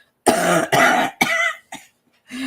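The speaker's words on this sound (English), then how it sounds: "I just have this lingering cough" Four or five loud, close coughs from a person recovering from COVID in a quick run, the last ones shorter, followed by a brief strained throaty sound.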